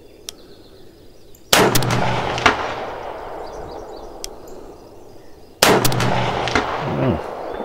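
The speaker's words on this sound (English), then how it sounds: "Man, it's been a while since I've shot this rifle, and it just feels so damn good." Two loud, sharp rifle shots fired with Callaway Ballistics 77gr Sierra ammunition, spaced about four seconds apart at a range, each a close crack followed by a long decaying echo.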